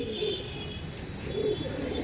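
Madras pigeons cooing close by in a loft offered for sale, low soft throaty coos rising twice over a steady background hum.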